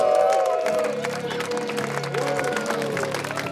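An audience at a robot battle event in a hall claps and cheers, dense applause holding steady with crowd voices and a tonal hum underneath.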